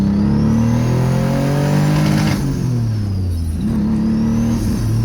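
A car engine revs hard through the gears, its pitch climbing, dropping at a shift, and climbing again, with a faint turbo whistle riding above the roar.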